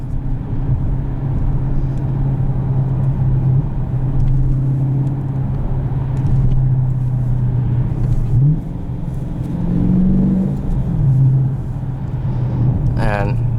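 A 2019 Dodge Challenger Mopar Edition Shaker 392 with a manual gearbox being driven, its engine a steady low drone from inside the cabin with a brief rise in revs, while someone talks over it.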